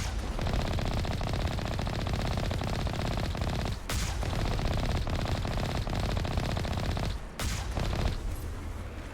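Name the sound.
turrets firing at the player in video game Mass Effect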